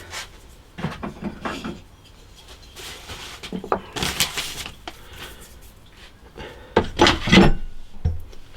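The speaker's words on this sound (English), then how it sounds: "I'm going to put a clamp on there to stop that slipping sideways" A clamp is fitted onto a handmade guitar neck held in a vise: a few hollow wooden knocks and scraping rubs come close and irregularly, with louder clunks near the end.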